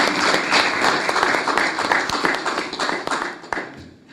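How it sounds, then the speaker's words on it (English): Applause at a political press event or briefing, with dense, steady clapping that swells and holds for about four seconds before thinning out near the end. "Double clapping."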